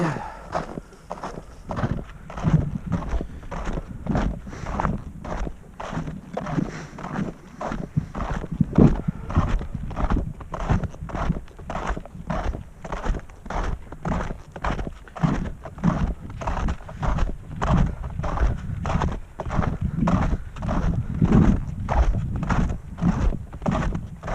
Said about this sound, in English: listening to snowshoes go crunch, crunch, crunch